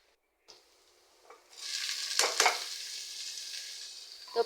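Onions and green chilies hit a hot pan and burst into a loud, close sizzle that keeps hissing steadily, with a few sharper crackles and a quiet clunk near the end.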